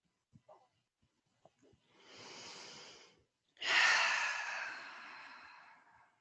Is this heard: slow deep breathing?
yes